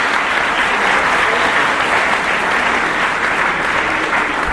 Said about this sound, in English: So clap hard for everyone.